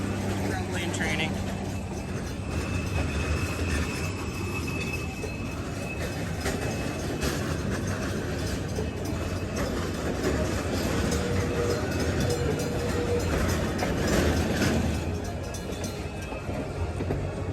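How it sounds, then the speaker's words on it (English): A train rolls past at the Six Flags Fiesta Texas theme park: a steady, loud rumble of rail cars and wheels fills the whole stretch, with faint background crowd noise underneath. "I got stopped by a train."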